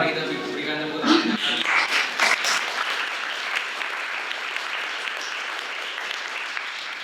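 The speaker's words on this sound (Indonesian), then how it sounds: "mari kita berikan tepuk tangan" An audience claps together after a school presentation, a steady wash of applause starting with a few sharp claps and holding at moderate loudness for several seconds, with a voice briefly heard at the start.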